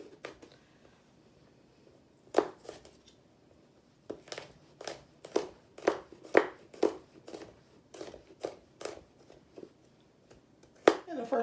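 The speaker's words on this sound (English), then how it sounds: "I'm just doing a rough chop." Knife roughly chopping fresh garlic on a cutting board for Southern-style pinto beans: a steady run of sharp, close knocks in irregular bursts, fairly quiet with short pauses between strokes.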